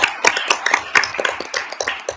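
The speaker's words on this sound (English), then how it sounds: "that deserves a round of applause" A scattered round of hand claps at a township board of supervisors meeting, a few people clapping unevenly for about two seconds, close and moderately loud in an indoor meeting room.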